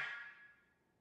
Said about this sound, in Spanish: Cerrando el bisel con la lengua muy rápidamente al mismo tiempo que se emite mucho aire.